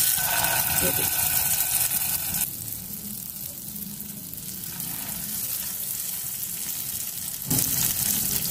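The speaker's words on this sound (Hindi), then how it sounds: "अब मैं इनको जो है फ्राई करने लगी हूँ आपके सामने मैंने देखिए इसमें ऑयल डाल दिया है" Chicken resha kebabs fry in oil, a continuous close sizzle that shifts in intensity a couple of times, and someone speaks over it.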